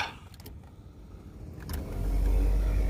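Small worn plastic blower fans in a Toyota Previa switching on, a low whirring hum that builds and grows louder toward the end after a few faint clicks, heard up close inside the vehicle.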